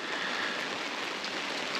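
Steady rain patters on a tent during a wild camping trip, a dense, even hiss of drops close by and continuous throughout, with no talking.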